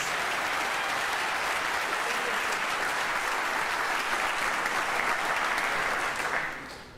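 A large audience at a high school senior athletic awards ceremony applauds the boys soccer state championship team, a dense, steady wash of clapping that holds for several seconds before tapering off at the end.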